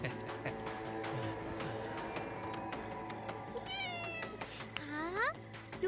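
A cat meows repeatedly in a village house, with one rising, drawn-out call standing out near the end. Faint background talk and music run underneath.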